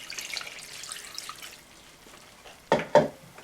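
Water pours into a cooking pot of chana dal and spinach, arriving as two short, splashy bursts after a stretch of faint kitchen hiss.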